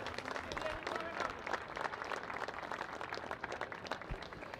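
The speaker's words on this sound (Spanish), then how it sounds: "A quien le brindamos un fuerte y cariñoso aplauso" Crowd giving warm, sustained applause at a rodeo event honouring a club member, steady clapping with a few voices and whistles threaded through, heard from a slight distance.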